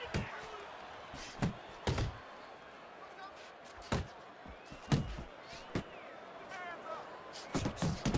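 Punches landing in the Fight Night Champion boxing game: scattered sharp thumps, some single and some in quick pairs, under steady crowd noise and a commentator talking.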